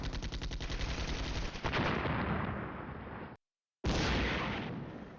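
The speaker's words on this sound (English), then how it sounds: "They're actually shooting." Dense, loud rolling gunfire and artillery blasts from the wargame Flashpoint Campaigns: Red Storm, rapid booms overlapping continuously, broken by a brief total dropout before the barrage resumes.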